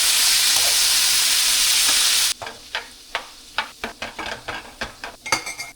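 Tomatoes frying in a pan begin with a loud, steady sizzle, then give way to a series of scraping stirs, with a utensil clattering against the pan in an irregular rhythm.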